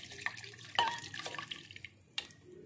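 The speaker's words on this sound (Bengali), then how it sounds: "এবার দিয়ে দেবো 1/2 বাটি মতো পানি।" Water is poured into a batter of semolina, sour yogurt and potato, giving a few short, faint splashes and drips spread over under three seconds.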